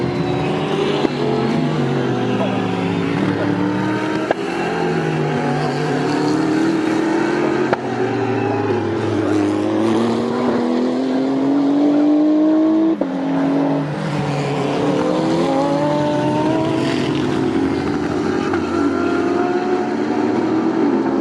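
GT race cars howl at speed around Snetterton circuit, a loud continuous engine roar with rising and falling pitch through gear changes under trackside commentary.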